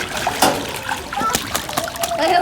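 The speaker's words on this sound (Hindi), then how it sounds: "देखो ये छींटे आ रहे हैं आपके ऊपर।" Children splashing water in a farm swimming pool, with loud repeated splashes and sloshing under excited kids' voices and an adult talking.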